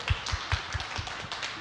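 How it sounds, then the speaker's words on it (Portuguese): A group in a children's class gives a short round of clapping, with a run of soft, evenly spaced claps heard close up. "salva de palmas"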